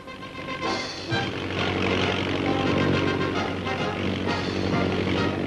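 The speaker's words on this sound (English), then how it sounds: "it goes spinning along the highway with a pusher airplane propeller doing the pushing at speeds up to 50" A flying car pushed along a highway by a pusher airplane propeller gives off a loud, steady propeller drone with a rough engine roar. The sound holds constant throughout with no speech over it.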